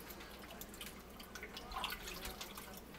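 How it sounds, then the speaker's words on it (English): Water drips from freshly blanched, cold-cooled peas draining in a strainer over a sink, a quiet steady patter of small drops, close and alone with no talk. "Once they're cold, we're going to let them drain."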